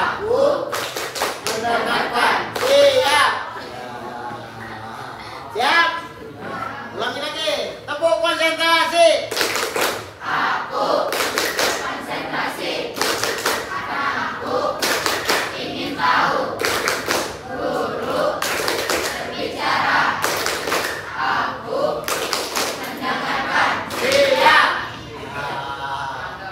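A group of children plays the 'tepuk konsentrasi' clap game, producing rhythmic bursts of clapping mixed with chanted voices and speech throughout.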